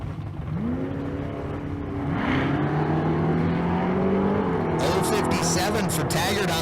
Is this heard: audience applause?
no